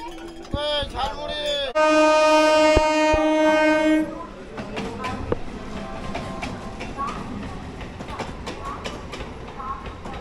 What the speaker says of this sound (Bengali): ডাউনের ট্রেন ঢুকে গেল